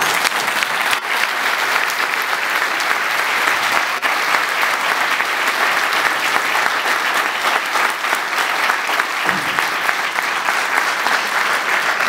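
Sustained applause from an audience at a political meeting fills the room, a dense, steady clatter of many hands clapping without pause throughout.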